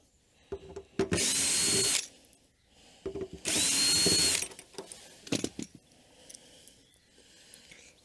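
Power drill backing cap screws out of the rear cap of a heat pump dryer, with two long loud whirring bursts close by and short sharp clicks and knocks between them.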